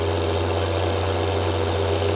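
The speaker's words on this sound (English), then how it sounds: "How loud is this freaking tractor?" A loud tractor engine drones continuously at a steady low pitch, a constant heavy rumble with no change in rhythm and no talking over it.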